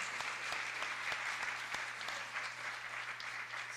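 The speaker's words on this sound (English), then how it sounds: "Can we have another round of applause for all of our presenters this morning?" A conference audience applauds at the close of a morning's presentations, producing sustained, even clapping from a crowd heard at a moderate distance, with no speech over it.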